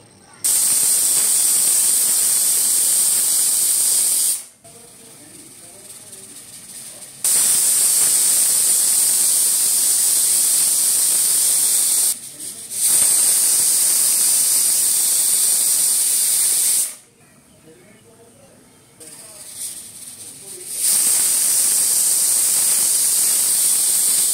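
A pressure cooker full of Khandeshi khichdi lets off loud, sustained steam hisses in several long bursts, broken by short quieter gaps, close and steady.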